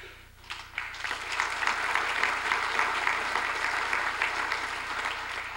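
Audience applause at a city's State of the City address, a dense wash of many hands clapping that builds quickly and holds steady and fairly loud throughout.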